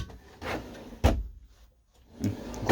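Drawers in a Burstner Lyseo TD690G Harmony Line motorhome slide open and shut, with three distinct knocks and rubbing slides separated by short quiet gaps.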